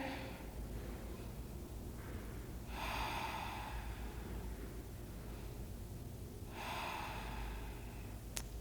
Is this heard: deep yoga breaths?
yes